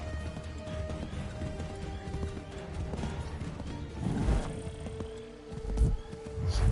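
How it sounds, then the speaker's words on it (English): Horse galloping in the video game Assassin's Creed III, a steady rapid clip-clop of hooves running beneath layered game music and ambience, with heavier impacts and a brief whinny-like swell near the end. "That horse is moving too fast."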